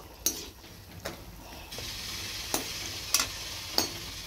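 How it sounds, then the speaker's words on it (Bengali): Luchi flatbreads fry in hot oil with a soft continuous sizzle, broken by occasional sharp clinks and scrapes of a utensil against the pan, close and fairly quiet. "এখানে লুচিগুলো ভেজে নিচ্ছি"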